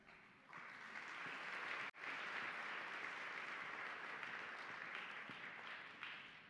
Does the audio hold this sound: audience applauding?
yes